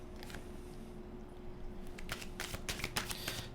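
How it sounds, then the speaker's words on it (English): Tarot cards being shuffled by hand, with soft, rapid riffling and flicking bursts that grow busier toward the end, close and fairly quiet. "So I'm just going to continue shuffling here."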